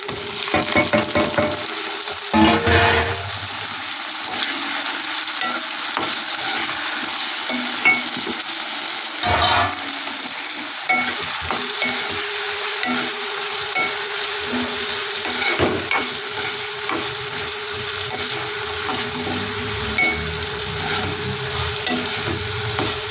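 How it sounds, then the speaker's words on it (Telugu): Tomatoes sizzle steadily in a hot pan, a loud continuous frying hiss broken by occasional stirring scrapes and clatters, with no talking. "టమాటాలు వేస్తున్నా."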